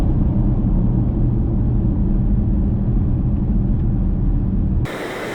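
A 2019 Porsche Macan S driving, heard as a loud, steady low road and engine rumble with broadband wind noise that drops abruptly near the end.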